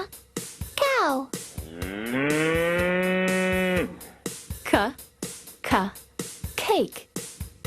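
A cow gives one long, loud sustained moo in the middle, with short spoken words and a bouncy percussive backing beat around it.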